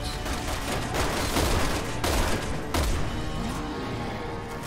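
Gunfire in the video game Resident Evil 6: a dense, loud barrage of rapid game gunshots and impacts over a busy, roaring game soundscape, with no talk.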